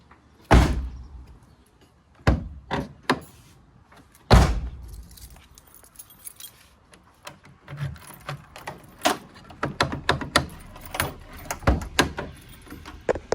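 A Honda CRX passenger door with straightened rods is opened and shut, giving sharp loud slams early on, then a run of lighter latch clicks and rattles.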